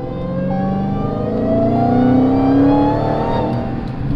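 A Dodge Challenger SRT Hellcat with a supercharger and an aftermarket intake revs loudly up close, with a rising engine note and a high supercharger whine that swells and then settles.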